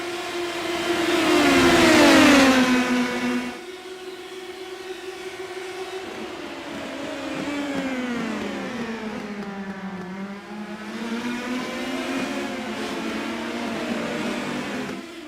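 Open-wheel Indy Pro 2000 or USF2000 race car lapping Virginia International Raceway in iRacing, engine loud and close with rising and falling revs through gear changes, a strong burst early then steady revving alone.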